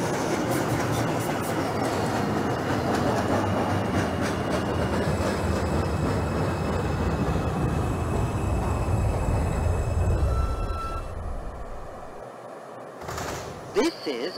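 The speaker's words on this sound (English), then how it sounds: "This is a Brooklyn-bound 2 express train." A New York 2 express subway train in the OpenBVE train simulator game rumbles along steadily with rhythmic clatter, then slows and quiets near the end, followed by a brief clunk.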